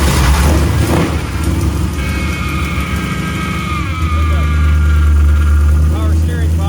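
A Chrysler 360 LA V8 with a Lunati Voodoo cam fires up for the first time, a loud, low, rough engine drone running throughout at close range, with people talking over it.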